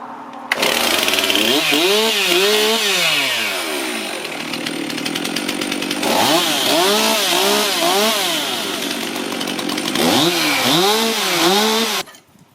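A Stihl MS362 chainsaw runs loud and close, its engine revving up and down in three repeated bursts with a rough, buzzing vibration between them.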